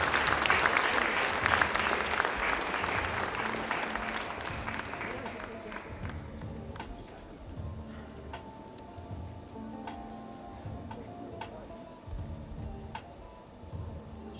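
Audience applause for a graduating high-school class at a school ceremony, loud dense clapping for about five seconds that thins out into a sparse, steady trickle of individual claps with room murmur.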